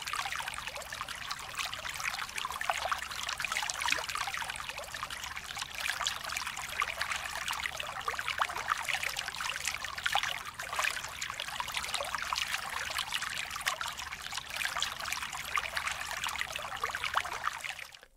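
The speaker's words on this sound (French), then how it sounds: "dans cet extrait sonore, on entend le clapotis de l'eau" Water laps at the edge of a lake in a soft, steady, irregular trickle and splash, quiet and continuous with no voices.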